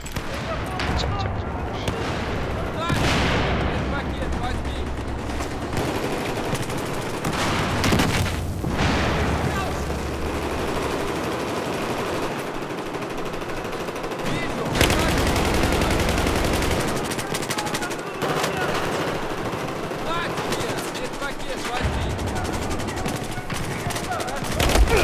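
Gunfire in the video game Battlefield 4 rattles on loudly and almost without pause, with machine-gun bursts and heavier booms layered over a dense battlefield din.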